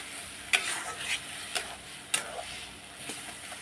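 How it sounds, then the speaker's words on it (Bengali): Masala of spices and Kashmiri chilli powder is stir-fried in a pan, a steady sizzle broken by several sharp scrapes of a spatula against the metal at uneven intervals, close and without voices. "এখন আমি নাড়াচাড়া দিয়ে দেবো মশলাটা কষিয়ে নেবো"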